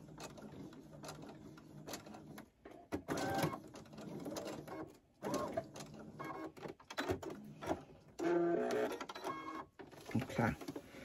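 A sewing machine back stitches a seam joining the hood to a towel, running in several short bursts with pauses between them, close and moderately loud, while a person talks over parts of it.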